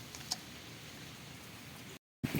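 Steady light rain patters outdoors in a coastal area, a soft continuous hiss with a few faint ticks, ending in a brief cut to silence.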